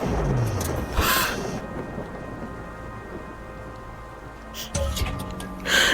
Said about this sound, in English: For a split second, the whole world was exploding, but it was just a thunderclap